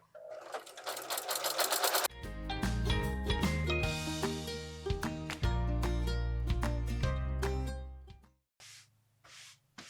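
A sewing machine quilts scrappy place mats, its needle running in fast rhythmic bursts with pauses and speed changes, loud and close, and stopping near the end.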